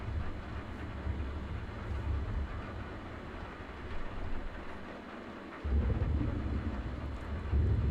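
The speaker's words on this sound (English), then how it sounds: "Intense storm sounds outside." An intense storm rages outside in the Kentucky Route Zero video game, a steady low rumble of thunder and rain rolling continuously, swelling louder near the end.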